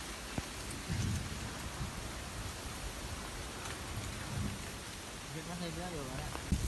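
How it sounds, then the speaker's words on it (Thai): Steady rain hisses throughout, with low rumbles of thunder rolling in at moments; a voice speaks faintly beneath the downpour. "ท่ามกลางบรรยากาศพายุ ฝนตกนะฮะ"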